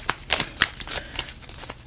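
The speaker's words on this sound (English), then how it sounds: "Okay, I'm gonna stop shuffling now" A deck of tarot cards being shuffled by hand: repeated crisp riffling bursts and soft slaps, a quick uneven rhythm of about eight strokes, close and fairly loud with no talking.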